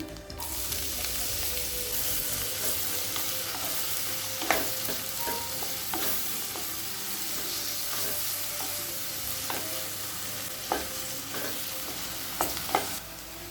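Two large finely chopped onions sizzle steadily in hot oil while a spoon scrapes and clicks against the pan at irregular intervals, while making pepper chicken gravy.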